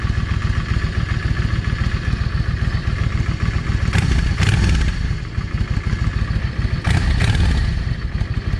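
A Yamaha 650 V Star motorcycle engine running close by, its throttle blipped in two sharp bursts of revving over a loud, rough, clattering idle.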